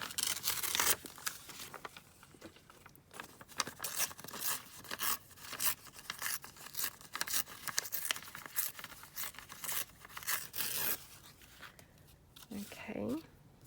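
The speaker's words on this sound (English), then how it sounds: "So I'm just going to tear it down." A piece of paper torn by hand for a scrappy journal cover, with a long run of close, crisp ripping and crinkling in uneven strokes, and a voice talking toward the end.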